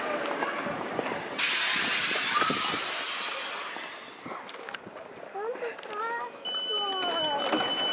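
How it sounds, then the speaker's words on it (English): A small choo-choo ride train at a Christmas market in Frankfurt gives off a loud burst of steam-like hiss, then rumbles and whistles faintly amid crowd noise and nearby talking. "Oh, the choo-choo train is going, Ali."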